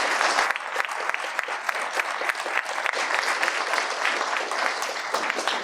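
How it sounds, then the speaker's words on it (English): A large audience claps steadily for Jeff Berman at the close of a talk on winning and losing the presidency, a dense, even round of applause lasting throughout with no voices above it. "Let's give Jeff Berman a great round of applause."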